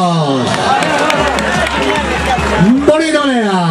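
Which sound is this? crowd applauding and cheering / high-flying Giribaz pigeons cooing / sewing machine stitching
crowd applauding and cheering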